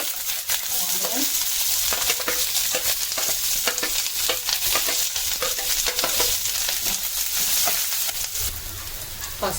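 Onion with green chillies and peanuts frying in a pan after mustard seeds, a continuous close sizzle with frequent stirring scrapes and small crackles throughout.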